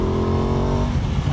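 Aprilia Tuono 660 Factory motorcycle engine running close and loud, a steady throaty hum with a slight shift in pitch partway through.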